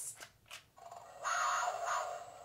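A cat paw toy lets out a rough, drawn-out big-cat growl like a cougar, a short grating snarl of about a second following a couple of faint scratchy bursts, fairly quiet and close with no voices.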